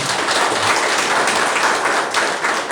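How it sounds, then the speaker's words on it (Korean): Audience applause at a training session for Buddhist monks, a steady dense wash of clapping from a crowd that holds at an even, fairly loud level throughout. "크게 박수 한번 보내주십시오."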